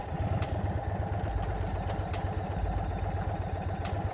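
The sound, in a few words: Indian Chief Dark Horse motorcycle engine restarting and idling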